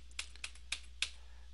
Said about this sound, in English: we can start using our arrow keys.